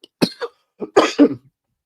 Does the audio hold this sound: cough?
yes